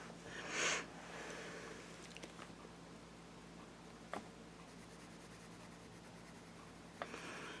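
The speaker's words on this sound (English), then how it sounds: "This paper is really nice to color on." A colored pencil scratches softly across paper in steady strokes, faint and close, with a couple of light taps and one louder brushing rustle near the start.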